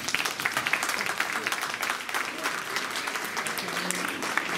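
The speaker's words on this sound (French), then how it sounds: "c'est un grand bonhomme qui fait pas mal de choses, on peut l'applaudir" Audience applause at a community dictation event and award ceremony in Massy, a sustained wash of many hands clapping throughout with a few faint voices beneath.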